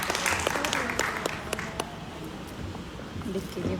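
A crowd applauds a performer at a song-launch event in Lucknow, with bursts of clapping early on that thin into a lively, murmuring room, and voices talk over it.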